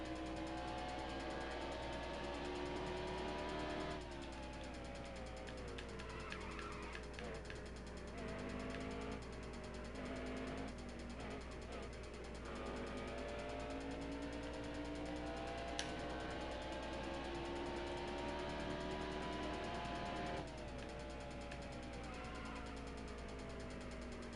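Race car in the NASCAR Heat Evolution racing game, its engine droning steadily and continuously with shifting pitch as it accelerates and shifts through gears, loud and uninterrupted throughout.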